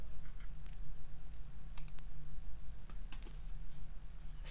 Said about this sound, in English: So I try and move the card more than the scissors.